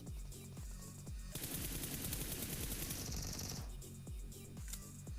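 Gunfire in a mobile shooter game, with spaced single shots at first, then a dense rapid automatic burst, then spaced shots again, sharp and close with no talking.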